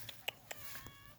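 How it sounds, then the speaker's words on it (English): A pet cat named Sparta gives a few short, faint meows in a garden, with quiet gaps between them and soft background noise. "My cat Sparta."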